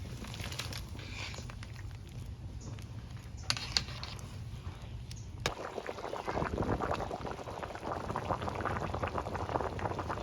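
Beef broth boiling hard in a pot as taro root is cooked into a meat dish, a steady bubbling roar that turns louder and busier halfway through, with a brief clatter just before.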